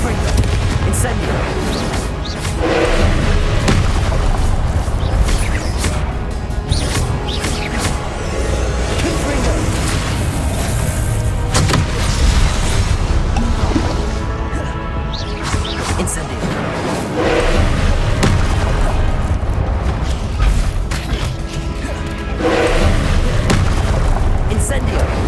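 Confringo and Incendio spell blasts fire again and again in Hogwarts Legacy, with booming, crackling bursts coming in dense, repeating waves throughout. They are loud and close, and the voice calling out each spell is heard over them.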